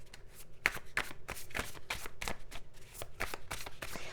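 Tarot cards are shuffled in quick repeated riffling bursts, soft close papery flicks in an irregular rhythm, quiet and alone.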